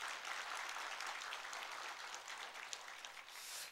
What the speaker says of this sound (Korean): 박수로 한번 격려하십시오.